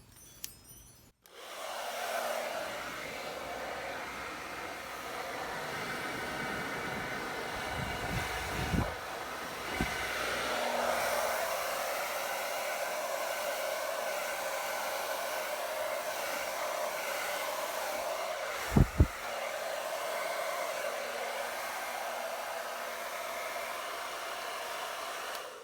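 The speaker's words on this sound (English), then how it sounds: "And I'm going to use my hair dryer. Setting is cold." Hair dryer on its cold setting blowing steadily for the whole stretch, a continuous broadband whoosh with a few brief bumps and clicks as it is moved over an acrylic fluid pour painting.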